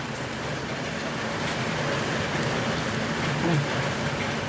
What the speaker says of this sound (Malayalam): ഇമ്മാതിരി മഴയാണ്.